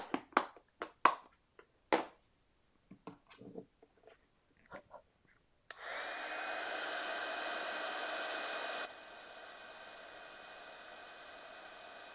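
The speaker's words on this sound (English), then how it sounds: "I'm going to sprinkle on some white embossing powder again. And then we'll heat set." After a few light taps and handling noises, a heat gun heat-setting white embossing powder blows a steady loud roar for about three seconds, then drops to a quieter whir.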